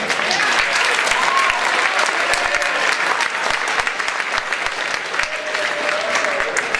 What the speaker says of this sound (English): Yeah, you can give them applause.